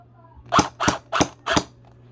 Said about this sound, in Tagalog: Yung unit ko is Tiangong ARP9V3, yung metal gearbox, stock lahat.